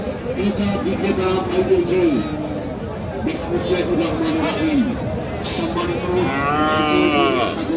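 Cattle mooing at a market selling Friesian and crossbred bull calves, several long lowing calls near and farther off, over constant crowd chatter with voices talking throughout.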